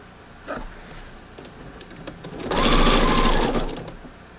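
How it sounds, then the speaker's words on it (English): A sewing machine stitches along a fabric edge, with a short burst at first, a quiet pause, then a louder steady run of rapid needle strokes close by that stops near the end. "As long as I know I'm sewing right by that edge, then I'm good to go."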